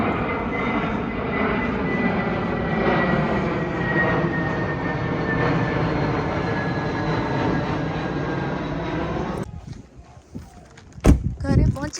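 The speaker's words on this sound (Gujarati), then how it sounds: "આ જો 2 મિનિટે ફ્લાઇટો આવે છે, એટલો અવાજ આવે." A passenger airplane flies overhead, its loud jet roar droning steadily for about nine seconds before cutting off abruptly, followed by quieter thumps and clatter nearby.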